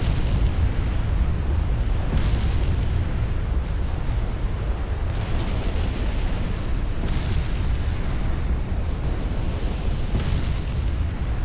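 Naval battle in the game Ultimate Admiral Dreadnoughts, a dense continuous rumble of distant shell explosions and booms with periodic heavier bursts around every few seconds, loud and without speech.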